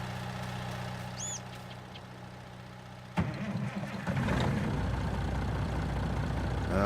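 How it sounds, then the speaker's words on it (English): A truck engine in Farming Simulator 19 cranks and starts with a sharp burst partway through, then settles into a steady, louder idling rumble after a quieter background hum. "let's get back in the truck quickly"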